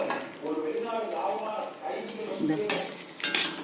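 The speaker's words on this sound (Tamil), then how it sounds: "இதில் 2 இதை நல்லா செவக்க வறுக்கணும்" Black urad dal and black sesame dry roasting in a pan for idli podi, with scraping and clinking of a spatula against the metal under steady talk, a few sharper knocks near the end.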